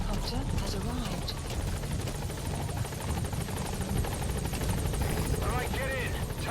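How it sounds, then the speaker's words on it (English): The Metal Gear Solid V support helicopter arrives with a steady, loud rotor whir and engine roar that holds throughout, close by and unbroken. "Support helicopter has arrived."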